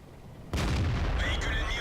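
A single heavy tank cannon blast booms suddenly in a tank video game, a loud broadband shot followed by sustained rumbling and ringing decay.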